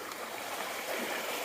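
A mountain stream flows near Laurel Fork on the Appalachian Trail, a steady broadband rush of running water heard close by with no voices over it.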